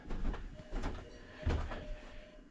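A very small door in an alpine chalet is opened with a few soft wooden knocks and thumps, the loudest bump near the middle, quiet and close.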